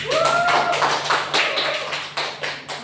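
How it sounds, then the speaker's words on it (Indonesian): A classroom applauds a presenter during a microteaching lesson: a scattered round of clapping from several people, fairly close, with a brief whistle-like tone at the start. The claps rise and fall in uneven bursts, with no talking over them. "kasih aplaus dulu buat teman yang maju nih"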